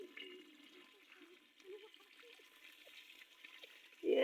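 Water being poured off from a cooking pot outdoors, a soft, faint trickle and gurgle that runs steadily, then swells into a louder splash at the end.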